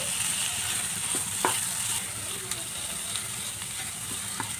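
Mashed papaya with coriander leaves frying in a pan for a Bengali bhorta, giving a steady close sizzle with a few light scrapes and clicks of stirring and no speech.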